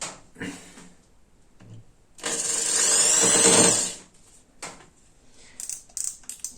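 Hyundai HP710Set hammer drill running in hammer mode, a loud, steady high-pitched whine with rattling impact for about two seconds, preceded and followed by brief handling clicks and short bursts.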